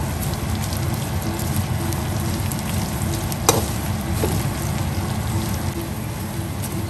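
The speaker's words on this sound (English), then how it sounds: "So after 2 minutes of frying peanuts" Steady, dense sizzling of peanuts frying in a pan, a continuous crackle with one brief sharp click partway through.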